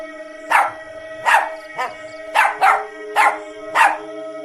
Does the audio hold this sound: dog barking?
yes